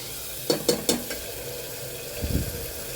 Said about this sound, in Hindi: अब हम मसाले अच्छे से भून लेंगे, बहुत अच्छी तरह से मसालों को हमें भून लेना।